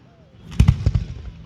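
Fireworks finale at a small-town show, a cluster of several loud booming bursts in quick succession, fairly close, with voices murmuring around them.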